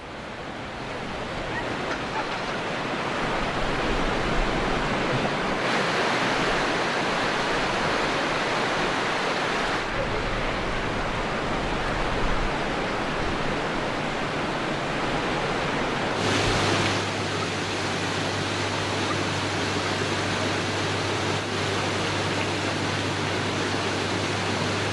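Floodwater pours through an overflowing wadi after heavy rainfall, a loud, steady roar of rushing water with wind buffeting the microphone, unbroken and without speech.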